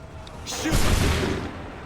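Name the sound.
musket gunfire volley in Assassin's Creed 3 video game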